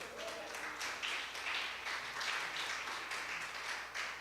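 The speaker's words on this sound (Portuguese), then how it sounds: "dê um forte aplauso" Congregation applauding during a church deliverance service, a moderate wash of clapping in pulsing waves, somewhat distant and reverberant, with a faint voice or tone lingering at the start.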